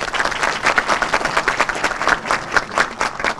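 Applause from a neighbourhood crowd at a local gathering, loud rhythmic clapping in close, uneven bursts.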